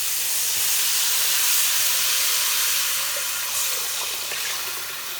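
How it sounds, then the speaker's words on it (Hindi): Water pours from a jug into a cooking pot of prepared spice masala for nehari, a steady rushing hiss close by that swells and then gradually tapers off, with no talking. "अब हम ऊपर से पानी डालेंगे। ये हमने जग पास रखा हुआ था"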